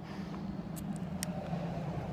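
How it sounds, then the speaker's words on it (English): Cars pass on a neighborhood street, giving a steady, moderately distant rolling road rumble with a couple of brief sharp ticks standing out, and no talking. "Here come all the cars all of a sudden."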